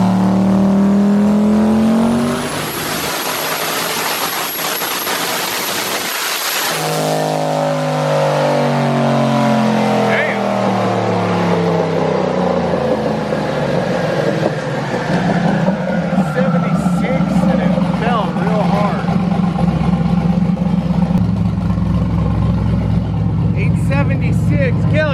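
A tuned car engine revs hard on tuning pulls, climbing sharply in pitch then dropping, followed by repeated rising and falling revs close by. People talk over the engine noise.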